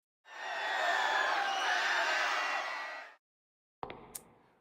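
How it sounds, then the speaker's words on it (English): Crowd cheering in the Blue Archive video game, a dense, steady roar of many voices lasting about three seconds before cutting off abruptly, followed by a few short bright game effect sounds. "Wow, the crowd is going wild."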